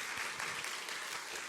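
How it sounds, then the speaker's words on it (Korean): A church congregation applauds the choir at a Sunday service in a dense, steady round of clapping heard throughout, a little distant and reverberant. "우리 성가대 우리 경례의 박수 한번 보낼까요?"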